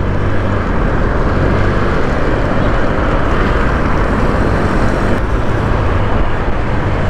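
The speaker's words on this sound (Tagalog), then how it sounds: "Konting piga lang, talagang may hatak din tong motor na to." Honda Click 125i fuel-injected scooter accelerating on a ride, a loud, continuous engine drone mixed with roaring wind rush from start to finish, steady and unbroken, with no talking.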